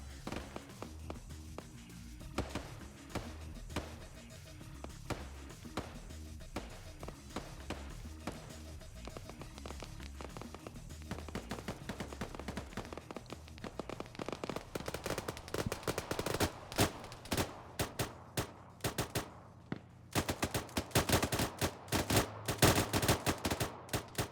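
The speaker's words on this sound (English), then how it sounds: "So much suppressive fire just going through these woods." Suppressive gunfire rattling through woods in a video game, scattered shots at first, then denser bursts of automatic fire, fairly near and sharp.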